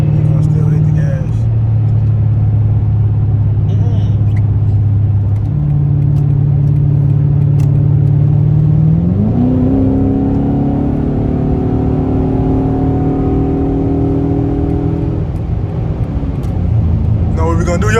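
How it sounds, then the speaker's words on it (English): A car's engine hums steadily in traffic, then revs up with a rising whine that holds at a higher pitch before settling back, heard from inside a nearby vehicle while people talk over it. "Why is he still hitting the gas for? He gonna still hit the gas."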